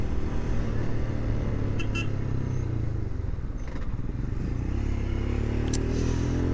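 A 2024 Royal Enfield Scram 411 motorcycle being ridden, giving a steady, loud low engine drone with wind rush throughout and faint clatter, no talking.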